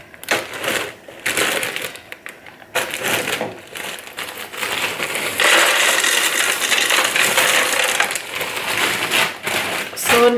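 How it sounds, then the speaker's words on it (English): Mixed vegetables, frozen and loose from a bag, pour into the basket of an Ultenic dual air fryer with a dense, rattling patter of pieces hitting metal, broken by short pauses, then a steadier, louder stream near the end. "I'm going to add in some of this mixed vegetables."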